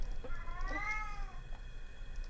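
A cat creature in the horror video game Erie gives a single drawn-out meow, fairly faint, over a low background hum.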